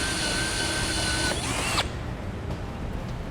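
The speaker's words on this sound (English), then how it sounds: "I'm going to use an 1 3/8" hole saw and we'll get that drilled out" A power drill with a 1 3/8-inch hole saw whines steadily with a high grinding tone for under two seconds, then stops, leaving a low mechanical rumble.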